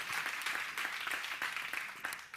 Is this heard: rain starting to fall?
no